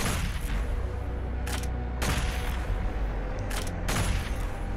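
Gunfire from the Doom Eternal video game crackles in a dense, continuous barrage, with a few sharper bursts standing out against the steady roar of combat.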